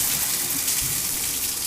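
A shower runs in The Milgram Experiment game, a steady loud hiss of spraying water that fills the whole moment without pause or talk.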